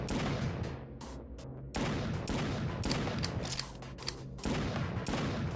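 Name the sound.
gunfire from guns in the video game Doomed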